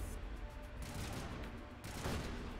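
Faint, continuous volleys of automatic weapons fire in Mass Effect, a steady crackling barrage with a louder surge near the end and no voices.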